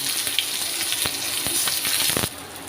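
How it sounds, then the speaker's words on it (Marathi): Onions frying in a pan until golden for a dhaba-style sev bhaji, a steady hissing sizzle up close with occasional light stirring taps. "तर कांदाही आपण सोनेरी कलर होईपर्यंत आपण फ्राय करून घेऊ"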